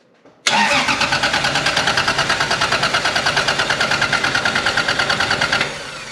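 A Toyota mk3 Supra engine cranks on a fresh battery, a loud, fast rhythmic starter churn that begins abruptly and holds steady for about five seconds without firing, then winds down.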